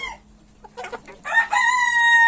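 A rooster crows with a long harmonic call after a few short clucks from chickens in a coop, close and fairly loud.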